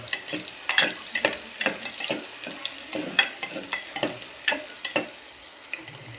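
Onion sizzles in a pan for khichdi while a spoon stirs it, giving rhythmic scraping strokes about twice a second over a steady crackle. It sounds close and clear, with no talking.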